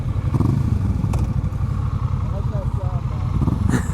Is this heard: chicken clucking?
no